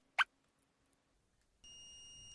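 An RC monster truck's electronics give a single faint click early on, then after a silent stretch a steady, high electronic beep starts and holds to the end, quiet and close with no talk.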